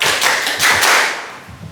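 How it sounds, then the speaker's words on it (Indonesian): A group claps along in an icebreaker game, a few quick bursts of claps grouped close together, fairly loud and near with no voices. "Tepuk 4."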